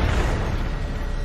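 A car explodes in the 2011 film Ghost Rider, filling the clip with a loud, dense, continuous roar of blast and debris noise with no speech.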